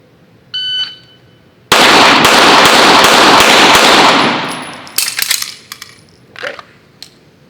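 Six pistol rounds fired at targets on a range in a rapid timed string, a dense burst of sharp loud reports running together, followed by a few scattered clanks and pops.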